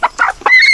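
Native chickens on a Philippine farm clucking loudly and close by, a few quick, separate clucks that end in a higher drawn-out call.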